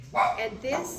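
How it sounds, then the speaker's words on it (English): A couple of quick dog barks sound at close range, brief and sharp, mixed with a person talking. "pardon the dogs"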